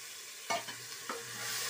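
Vegetables and peas tipped into mashed tomatoes in a hot pan, a steady sizzle and frying hiss with a couple of sharp stirring scrapes and thumps, close and clear, with no talking.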